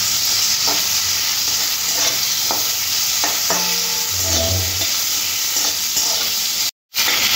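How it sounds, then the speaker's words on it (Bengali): Potatoes fry in oil with salt and turmeric, giving a constant loud sizzle with scattered clinks and scraping stirs and a low rumble partway through. "দিয়ে আলুটা ভাজতে হবে"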